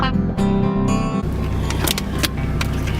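Interior of a car, loud and close, with a steady low rumble throughout, a couple of brief bright clatters early on, then a broadband bump as a door or seat movement settles into a continuous hum.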